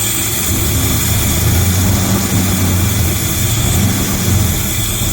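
A classic Chevrolet C10 pickup truck engine idles close by, a steady low rumble with an even tone and no voices over it.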